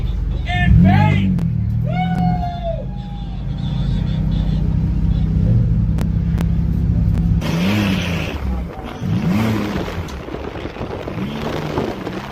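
A car engine drones and revs under excited voices, rising and falling in pitch, loud and close, with rumbling road noise throughout.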